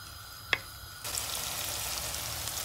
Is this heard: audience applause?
no